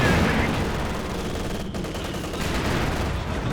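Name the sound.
Katyusha rocket barrage in video game Company of Heroes 2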